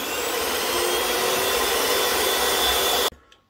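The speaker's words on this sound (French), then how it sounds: "Ensuite, on va mettre les 2 œufs et on va fouetter pendant environ 30 secondes." An electric hand mixer whisks two eggs for apple tart batter, a steady loud whirring drone that runs unbroken and then cuts off abruptly, followed by a faint clink.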